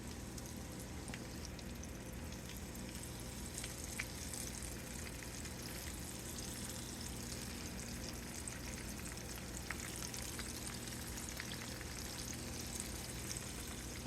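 Deer steak pieces fry in a pan with a steady, quiet sizzle and occasional soft pops, continuous from start to finish.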